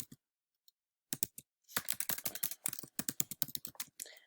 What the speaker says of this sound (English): So if you type in an answer over here